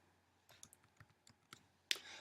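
Several soft, quick computer mouse clicks spaced irregularly, close and quiet, ending with one sharper, louder click.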